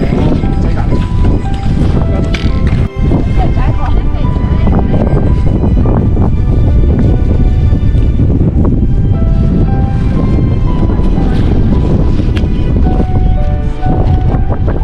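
Strong wind blows steadily across the snowy upper slopes of Mount Fuji in early-snow season, a loud, continuous rushing roar close to the microphone throughout.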